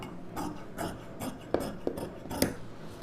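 Scissors snipping through blouse lining fabric during tailoring, a series of close, crisp cuts spaced about half a second apart with faint rustling of cloth between them.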